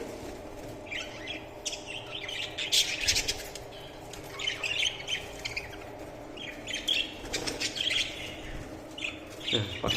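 Grey and blue pet birds courting in a free-flight aviary chirp, tweet and squawk busily and continuously at close range, with occasional louder calls and brief wing flutters.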